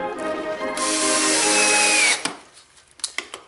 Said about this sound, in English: drive your pocket screws